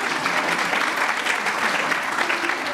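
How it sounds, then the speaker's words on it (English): A crowd applauds steadily throughout a nursing school stethoscope ceremony, a thick wash of many hands clapping at moderate loudness with no pauses. "go ahead and applaud"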